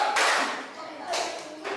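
A group of participants in a teacher coaching session clap in unison on cue, two or three short bursts of sharp, crowded clapping with pauses between.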